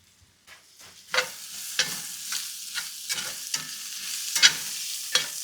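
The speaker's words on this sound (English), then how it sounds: "As soon as that garlic hits the pan." Garlic sizzles and fries in a pan up close while a utensil stirs and scrapes it in repeated strokes, with a steady hiss under sharp clinks and no voices.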